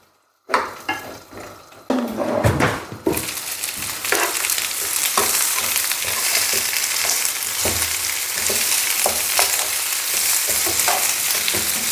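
Butter hits a hot pan and starts to fry, the sizzle jumping up after a short quiet start, then settling into a steady close crackle with small scrapes and taps of a utensil, no voices.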